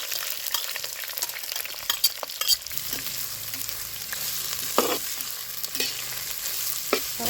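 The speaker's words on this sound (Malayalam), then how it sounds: "സവാള കുറവൊന്നുമില്ല, ചൂടുണ്ടെങ്കിൽ ഇട്ട് കൊടുക്കണം. പെട്ടെന്ന് വഴന്ന് കിട്ടും." Sliced onions, with curry leaves, chili, ginger and garlic, sauté in hot oil in a pan, giving a continuous close sizzle with occasional scraping stirs and small pops, and no talking.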